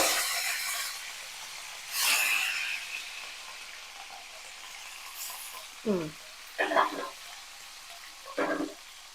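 Fish frying in a kadai of shallow oil, giving soft continuous sizzling broken by several louder bursts of crackle and scraping as the pieces are stirred and turned, a few times over.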